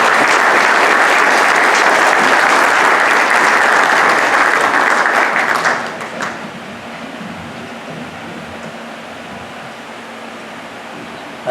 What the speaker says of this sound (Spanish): saludemos entonces con un fuerte aplauso a Pedro Alejandro Flores Cueva